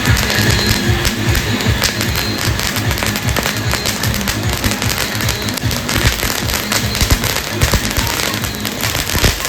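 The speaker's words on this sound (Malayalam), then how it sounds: "ഞാൻ എൻ്റെ കയ്യിൽ ജഗ്ഗു പടക്കം പൊട്ടിക്കാൻ വേണ്ടി പോയത്," Firecrackers bursting in a rapid, continuous crackling barrage throughout, loud and close, at a Christmas night celebration; no voices are heard.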